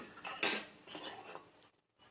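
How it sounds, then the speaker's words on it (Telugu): A cooking pan is set down on a home kitchen stove while prawn biryani is being prepared, giving a few close metallic clanks and scrapes over about two seconds before a brief quiet. "ఇప్పుడు మూకుడు పెట్టానండి"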